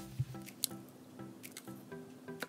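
Smucker's caramel syrup poured into a measuring spoon, about one and a half tablespoons, for a homemade cold foam. Quiet, close, sticky squishing and soft drips come in a few small bursts over a low background.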